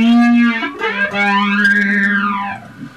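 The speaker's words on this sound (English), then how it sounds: "Here's a big muff distortion." A heavily distorted, fuzzy Big Muff distortion guitar tone from a Raspberry Pi pedal sustains and bends upward then back down, loud and alone for a few seconds.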